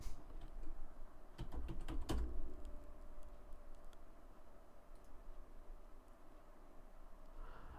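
Short bursts of computer keyboard typing as a command is entered, a cluster of quick clicks near the start, then a quiet room hum.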